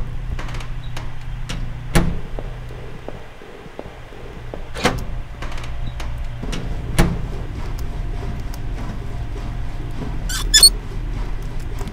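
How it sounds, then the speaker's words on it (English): A squeaky valve being turned in a puzzle video game: a few sharp, brief squeaks and clicks spaced over a low steady hum. "That made a squeaky noise."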